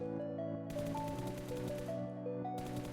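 Rapid automatic gunfire in PUBG Mobile, two sustained bursts of fast repeated shots over steady game music, with no talking.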